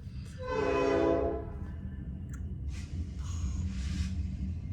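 A train horn blares for about a second near tracks running beside a home, followed by the rumble and scattered clanks of the train passing close by, with no voices.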